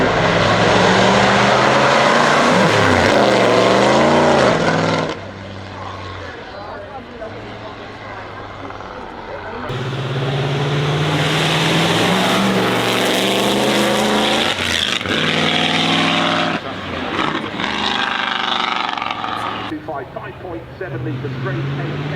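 A 5.7-litre Mercedes-Benz W125 Grand Prix racing car at the Goodwood Festival of Speed roars loudly nearby, its engine revving up and down in surging bursts with a brief quieter idle between, and a voice speaks over part of it.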